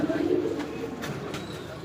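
Frightened pigeons coo softly and steadily, a low murmuring close by over a noisy background with a few faint clicks.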